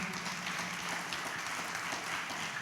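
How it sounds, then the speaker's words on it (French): Audience applause for Senegal's minister of national education at a book event, a soft, steady wash of clapping that sounds fairly distant and continues evenly throughout. "Je vous demande de bien vouloir l'applaudir"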